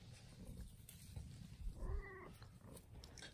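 A cat gives a single drawn-out meow, fairly faint, over a noisy indoor background.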